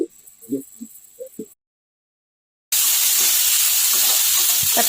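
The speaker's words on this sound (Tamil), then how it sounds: "தக்காளியுமே போட்டு எல்லாத்தையும் நல்லா மிக்ஸ் பண்ணி குழைய வதக்கிக்கலாம்" Tomatoes, onions and green chillies sautéing in a pan give a loud, steady sizzle that starts after a stretch of someone talking and a brief silence.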